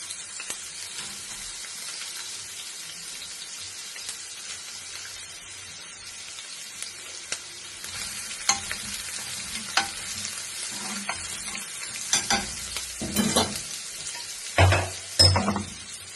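Oil frying in a pan on a stove gives a steady, close sizzle throughout, with sharper crackles and a few clinks of stirring building toward the end; no one speaks.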